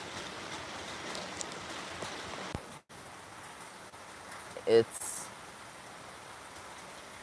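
Heavy rain captured on a phone's built-in microphone makes a constant hissing patter throughout, with a brief spoken word and a couple of short handling knocks.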